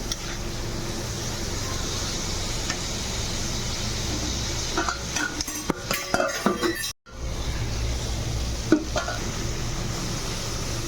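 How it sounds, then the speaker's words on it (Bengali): Greens stalks and potatoes fry with spices in oil in a pan, a steady sizzle broken by a spoon scraping and stirring, with a brief gap midway and no talk. "শাকের ডাঁটা আর আলু একটু মশলার সঙ্গে ভালো করে ভালো করে ভেজে"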